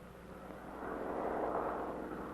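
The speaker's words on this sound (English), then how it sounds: "the plane flying across the center of the line of checkpoints at a predetermined speed" A propeller plane flies across a line of checkpoints at a set speed during a DDT spraying test, its steady engine drone swelling slightly louder as it passes, with no voices.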